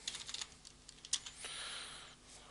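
Quick bursts of keystrokes on a computer keyboard during CAD sketch work, soft clicks close by in an uneven rhythm, followed by a longer smooth hiss, quiet with no talk.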